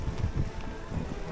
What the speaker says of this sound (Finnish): Ja tuuli on jonkunlainen